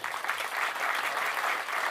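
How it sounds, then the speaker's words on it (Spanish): Audience applause at a flamenco jazz concert at the Festival Internazionale del Mediterraneo in Peagna, 2024: a dense, even wash of many hands clapping, steady and sustained throughout. "un aplauso"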